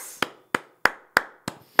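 Five sharp, evenly spaced hand claps ring out close and loud at a steady, slightly quick pace, each a crisp slap with a short decay.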